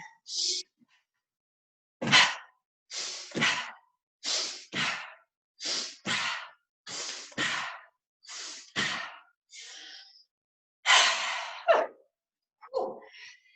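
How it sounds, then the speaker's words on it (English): Someone breathes in and out in sharp, rhythmic puffs while jumping like a kangaroo during a children's yoga breathing exercise, with quick audible gasps and exhales in steady pairs, close and clear with short pauses between them. "How about if we breathe in when we jump up, breathe out as we jump down."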